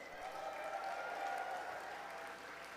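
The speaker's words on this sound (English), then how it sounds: "Give yourselves a round of applause." Applause from an audience at an anti-war teach-in after chanting and marching, a soft, even rush of clapping sustained for a couple of seconds, fairly quiet and with no voices over it.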